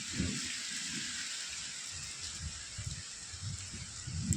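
Light rain falls steadily in Mansa district, Punjab, a soft continuous hiss with faint scattered patter, no voices.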